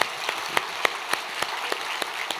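A church congregation clapping together at a New Year's Eve blessing prayer service, a dense, steady round of applause with a regular pulsing rhythm, close and fairly loud throughout.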